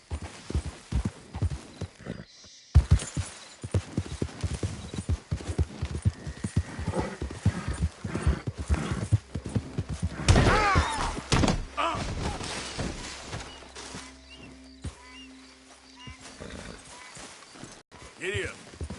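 Horse hooves clip-clopping in Red Dead Redemption 2, a steady loud rhythmic patter of hoofbeats on the ground with a few thunks and a whinny, mixed under voices talking.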